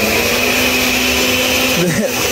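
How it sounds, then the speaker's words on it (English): A blender whirs loudly and steadily at a fresh orange juice stall in the jungle town of Nauta, Peru, its motor dipping and bogging briefly near the end. "it's a little loud with the blender"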